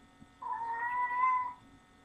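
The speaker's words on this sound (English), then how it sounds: "my cat's being very loud today." A pet cat lets out a single loud, drawn-out meow lasting about a second, close by and clear against a quiet room.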